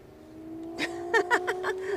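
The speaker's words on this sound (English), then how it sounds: "Somebody's drag racing behind us." A car accelerates behind a vehicle near Edinburgh Airport on a windy day, in a short rising drag-racing burst with stepped engine pulses over steady road and wind noise.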